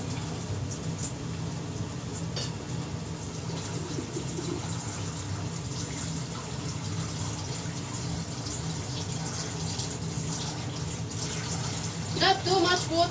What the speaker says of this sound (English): We'll add the water.